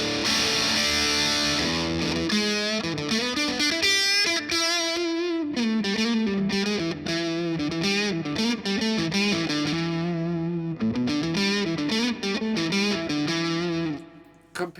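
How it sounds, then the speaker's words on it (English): Heavily distorted electric guitar through a Boss DS-1 distortion pedal with the distortion turned all the way down plays sustained chords and riffs, loud and saturated throughout, ending with an abrupt cutoff. "let's see how it sounds like with the distortion all the way down"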